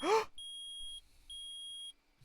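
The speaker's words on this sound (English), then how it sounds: "Beep, beep, beep. It reacted." Electronic metal detector in the Phoenix Wright: Ace Attorney video game, sounding two sustained high beeps after a brief opening chime, clear and close with no talk over them.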